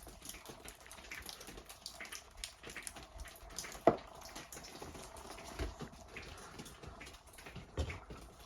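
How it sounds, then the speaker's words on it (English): In an abandoned mansion in an Irish forest, water drips faintly and irregularly, scattered soft plinks over a quiet, hollow room background, with one sharper drop standing out. "The noise of that water dripping."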